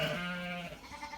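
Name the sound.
sheep bleating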